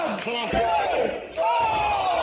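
Crowd at a live wrestling event in a Manchester student union venue roaring and yelling wildly, loud shouts and cheers with a brief dip before surging again.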